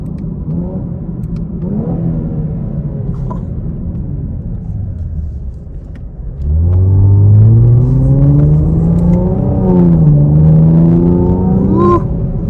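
A 2024 Chevy Camaro 1LT engine pulls hard on a test drive. After a steady rumble it surges into a loud, rising roar that climbs and dips briefly before climbing again, heard up close and alone.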